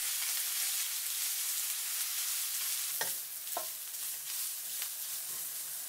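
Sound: ginger frying and being stirred in hot vegetable oil

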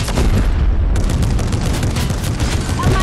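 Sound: turret shooting walls in video game Fortnite

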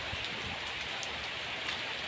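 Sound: rain falling

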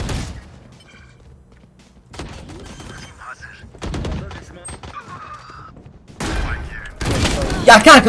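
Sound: gunfire in the video game Valorant

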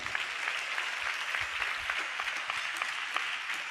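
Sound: congregation clapping hands

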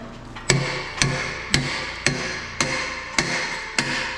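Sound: hammering

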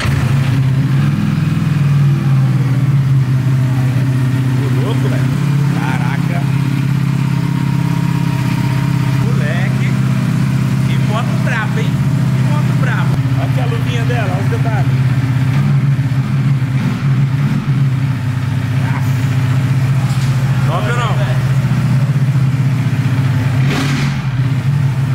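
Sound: Honda CB1000 motorcycle engine started and revving

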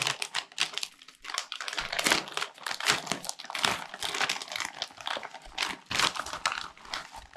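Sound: paper being crumpled while unpacking a parcel

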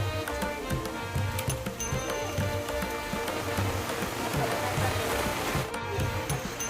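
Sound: rain falling during Ganpati immersion

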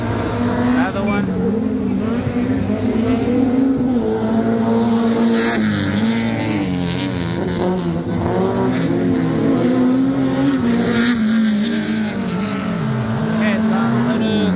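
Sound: rallycross race cars, small 1600 engines, passing loudly

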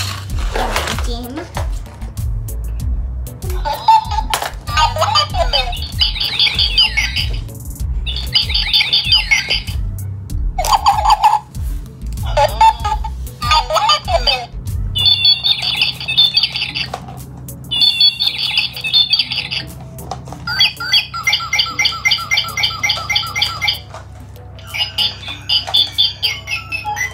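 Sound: toy bird cage making bird squawk sounds

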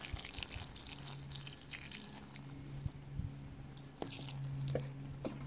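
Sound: water poured onto potting soil

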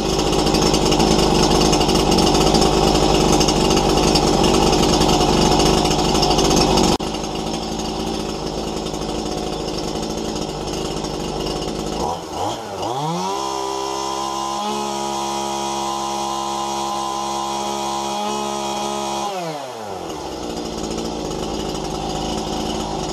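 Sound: Stihl MS181 chainsaw idling while warming up

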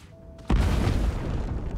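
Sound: poison barrel explosion in the video game Divinity: Original Sin II

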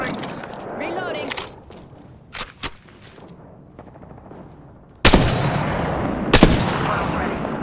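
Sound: gunfire in a battle royale video game

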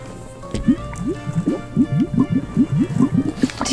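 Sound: blowing soap bubbles with a bubble wand

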